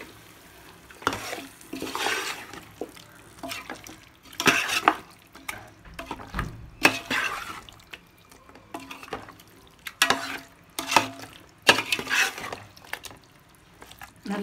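Chicken pieces are stirred into a thick masala in a pot for a one-pot chicken biryani. Several bursts of scraping and wet mixing come close by, with quieter pauses between them.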